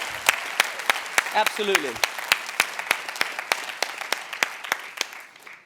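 An audience at the end of a final conference session gives itself a round of applause. Sparse, spaced claps ring out steadily, fairly close, while someone speaks briefly over the start.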